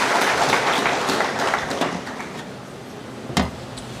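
Applause from a graduation ceremony audience fills the space, a dense wash of clapping that starts strong, thins gradually, and ends with one sharp louder knock near the end.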